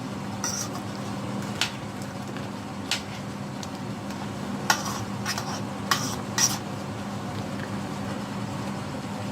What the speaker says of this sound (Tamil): நான் ஒருக்கா எல்லா நண்டையும் ஒருக்கா பிரட்டி விடுவோம்.